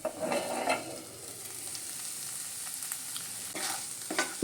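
Cauliflower cooking in a pan for kachori filling being stirred with a spatula, soft scraping and sizzling that swells at the start and again near the end, otherwise a low steady hiss.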